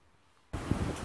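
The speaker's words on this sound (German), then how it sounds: "Wie ihr seht, ist es immer noch windig." Gusty wind on an evening walk outdoors, a broad rushing roar that starts abruptly after a quiet moment and holds steady and close.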